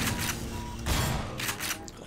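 Enemy gunfire in the Black Mesa video game, a dense run of rapid shots with bursts clustering near the start, middle and end, loud and close in a busy game mix.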